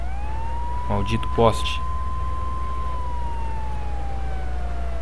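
Ambulance and fire truck sirens in the GTA 3 video game, a steady wailing tone rising and slowly falling over a low engine drone, with someone speaking briefly over it.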